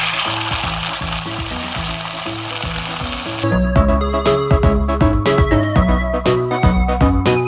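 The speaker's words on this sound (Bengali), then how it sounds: "যে চিকেন ম্যারিনেটটা করেছিলাম পকোড়ার জন্য, সেটা এবার আমি ভেজে নেবো।" Marinated chicken pakora frying in hot oil, a loud continuous sizzle and crackle running throughout, with rhythmic clattering over it in the second half, and no talking.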